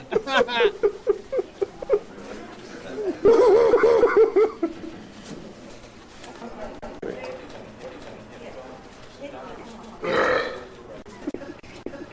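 Loud, drawn-out belches come in two bursts, with chatter and laughter around them and another rough burst later amid talking.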